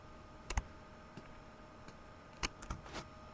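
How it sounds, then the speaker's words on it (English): Sparse computer keyboard keystrokes while modeling in software: a few quiet, close clicks, some in quick pairs, spread across a few seconds over faint room hum, with no talk. "Keystrokes."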